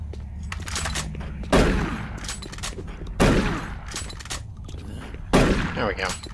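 Shotgun blasts in DOOM 3: three loud, separate booming shots about two seconds apart, each cutting through a steady murky game background.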